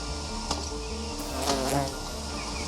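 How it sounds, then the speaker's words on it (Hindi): Buzzing insect, likely a honeybee, passing close along a river canyon trekking trail in Kalimpong, North Bengal, a steady drone with brief louder swells and no talk. "वो क्या है? वो मधुमक्खी है, बीज।"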